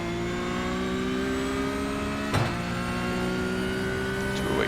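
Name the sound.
Porsche Cup race car engine in iRacing video game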